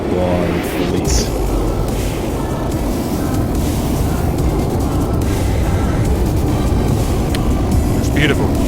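Saab Viggen jet in DCS World roaring through a full-afterburner takeoff, a loud, dense, steady rush of engine noise throughout, with brief radio-style voices over it.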